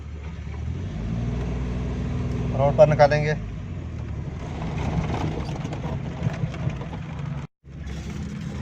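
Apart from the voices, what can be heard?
Suzuki Mehran car engine started and running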